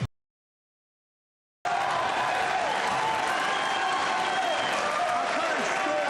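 Crowd at a 2024 US Open Pool Championship semi-final bursts into loud, sustained applause and cheering after a near-silent start, continuing steadily to the end.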